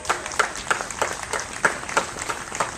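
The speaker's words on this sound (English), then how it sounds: "Let's give them a round of applause." A rally crowd applauds for veterans at an outdoor political event, a steady patter of claps with several distinct close hand claps standing out in an uneven rhythm.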